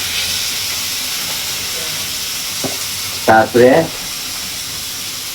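Onions frying until reddish in a pan while lentils are tipped in, giving a steady close sizzle and hiss that swells into two short louder bursts near the end, with a brief spoken word over it.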